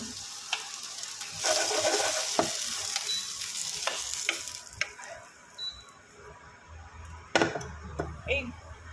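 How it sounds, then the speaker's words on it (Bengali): Vegetables frying in a pan with steady sizzling broken by stirring scrapes and clinks, close and fairly loud, with a voice speaking over parts of it. "এগুলোকে একটু হালকা ক্রাঞ্চ রেখে ভেজে নেব।"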